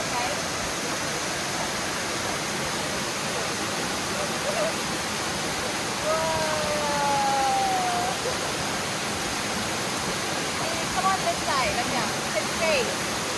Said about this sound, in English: What do you think about this waterfall?